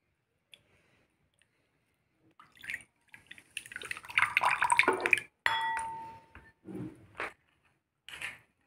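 Soaked tamarind squeezed and mixed by hand in water, giving wet squelching, dripping and sloshing sounds in short bursts, close and fairly quiet, with silence before and between the bursts.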